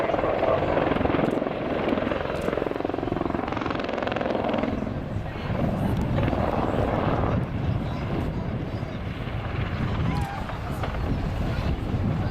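Apache attack helicopter manoeuvring during a flying display, its rotor thrum and turbine roar continuous and fairly loud across the whole stretch, rising and falling slightly with wind buffeting the microphone as a commentator speaks over it.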